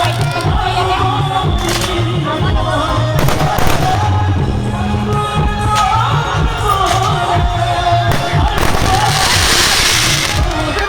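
Firecrackers burst at a wedding in India, with loud, close, irregular bangs and crackling throughout. A crowd murmurs and voices talk in the background.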